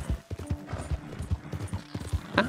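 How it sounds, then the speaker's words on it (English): A horse gallops in the Red Dead Redemption 2 video game, with rapid, rhythmic hoofbeats clip-clopping at a steady pace, moderately loud, and a brief snort or whinny near the end. "This horse can fucking run."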